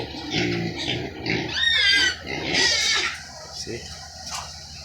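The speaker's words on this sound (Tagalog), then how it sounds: "Labindalawa na baboy." Pigs on a small family farm in the Philippines, squealing and grunting in loud overlapping bursts close by, with a person talking between the calls.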